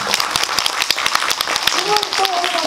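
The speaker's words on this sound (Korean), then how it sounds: "감독님께 한번 박수 부탁드리겠습니다." Audience at a film screening and talk event applauding the director, a steady patter of many hands clapping at close range, with a voice talking over part of it.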